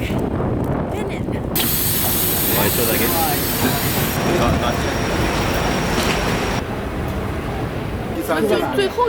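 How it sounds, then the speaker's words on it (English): Airport terminal shuttle train rumbling in on its track toward the Terminal 3C platform, with steady wheel noise and faint squeals over a sustained mechanical hum. "The train for Terminal 3C is approaching."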